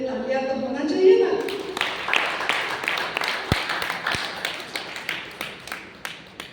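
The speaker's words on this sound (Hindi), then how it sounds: "तो इसके लिए तालियां तो होना चाहिए ना।" An audience at a health camp session in Chandigarh claps in a steady, rhythmic beat of sharp hand claps. A voice speaks briefly at the start, and the clapping then carries on alone at a moderate distance.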